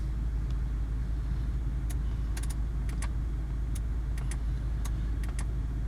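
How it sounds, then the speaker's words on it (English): A car engine idles with a steady low rumble, while small sharp clicks from inside the car pop up intermittently over it; no one speaks. "I'm going to stop the engine and switch off the ignition"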